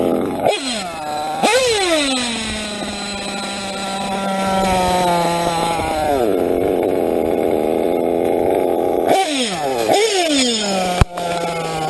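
A nitro RC engine runs close by, giving a loud, buzzing high-pitched whine that revs up sharply several times and settles back down to idle between bursts.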